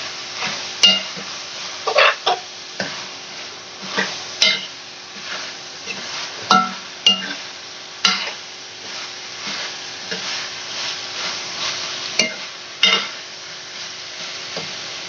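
Potatoes and peas fry in a pan while being stirred, with a soft background sizzle punctuated by regular sharp knocks and scrapes of a spoon against the metal, close up and without speech.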